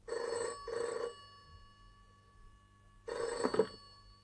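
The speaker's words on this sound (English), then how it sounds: "received a phone call" A telephone rings with a double-pulse bell pattern, two short rings, a pause, then another ring, heard fairly clearly with no voices.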